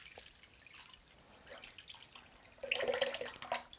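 Liquid is poured through a strainer in a home kitchen, starting as faint scattered drips and trickles, then swelling near the end into a louder, denser splashing stream with bright spattering drops.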